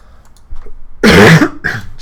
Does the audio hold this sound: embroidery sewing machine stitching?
no